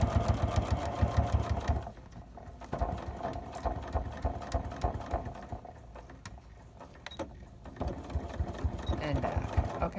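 A sewing machine stitches half-inch ties onto the side of a fabric face mask, running in close steady bursts with a brief back stitch, pausing around two seconds in before resuming; a voice speaks quietly in between.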